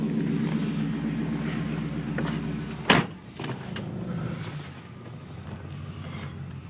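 A 1948 Buick with a built 700R4 transmission driving down a Michigan street, a steady engine and road rumble with a sharp bang near the middle, then a quieter, smoother cruise.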